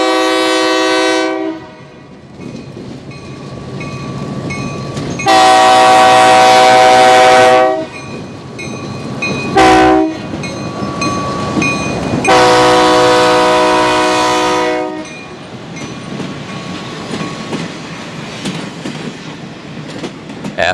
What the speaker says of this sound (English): The rare RS 1325 is returning for its second pass.